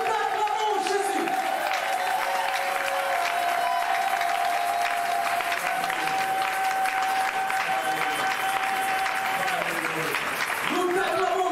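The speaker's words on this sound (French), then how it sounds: "Nous t'acclamons, Jésus" A worship congregation applauding and cheering steadily throughout, loud and continuous, with a sustained tone and voices mixed in.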